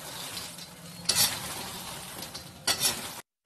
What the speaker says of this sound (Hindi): इनको हम क्रंची होने तक भून लेंगे जिससे ये अच्छे से फूट जाए